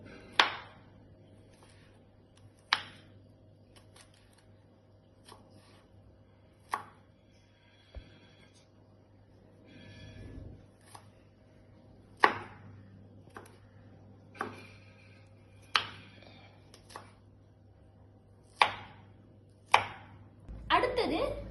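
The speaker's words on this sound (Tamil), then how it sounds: "முதலாக பூண்டை சிறிது சிறிதாக வெட்டி கொள்ள வேண்டும்." Garlic being chopped into small pieces with a knife on a cutting board: sharp, spaced thwacks at irregular intervals, close and clear over a quiet kitchen background with a soft hum.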